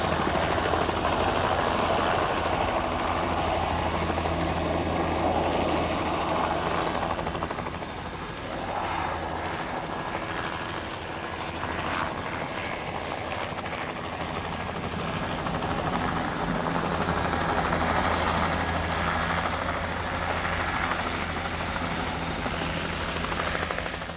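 A helicopter carrying crates of harvested cranberries from New England bogs drones steadily with a dense rotor roar that swells and eases slightly over time, continuous and fairly loud, with no voices.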